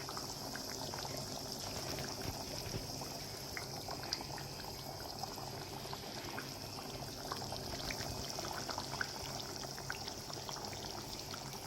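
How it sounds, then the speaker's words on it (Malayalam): Spicy Kerala mackerel curry bubbling gently in a pan over a low flame, a soft continuous simmer with faint small pops and no talking. "ഇനി ഇത് ചെറു തീയിൽ തിളച്ച് മസാലയൊക്കെ അയിലയിൽ പിടിച്ച് വരണം"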